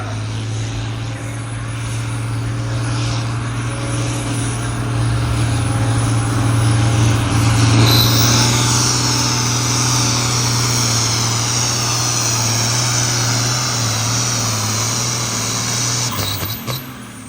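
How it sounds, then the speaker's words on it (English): An antique tractor at a Cuba City tractor pull drones loudly and steadily while hauling a sled, a sustained engine roar with a rising whine partway through, heard close and alone. "I'm going to hook it to a sled, believe it or don't, on an antique tractor"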